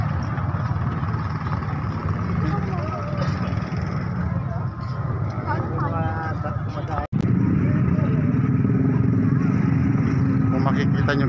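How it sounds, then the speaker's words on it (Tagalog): Motorcycle riding through a crowded town street in the Philippines near a church, engine rumble steady throughout with a brief dropout at about seven seconds, then louder; busy background din. "Ayun guys, nakamotor lang tayo. Ayun yung gamit kong motor."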